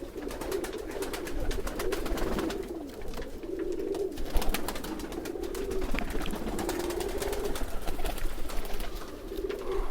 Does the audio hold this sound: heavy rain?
no